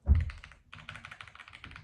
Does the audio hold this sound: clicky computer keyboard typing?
yes